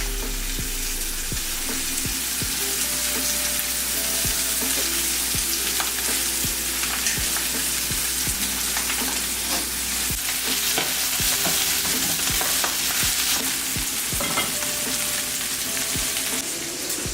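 Steak and garlic fry steadily in a hot pan, with a loud, continuous sizzle and occasional stirring clatter close by, and no talking.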